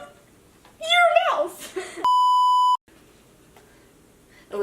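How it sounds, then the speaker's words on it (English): A steady, loud electronic bleep tone lasting under a second cuts in right after a burst of excited speech, then drops to quiet background. "bleep out his name a bunch"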